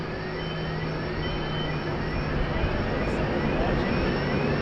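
An airplane departing Sydney Airport sends out a continuous jet roar with rising whining tones, steady and fairly loud throughout.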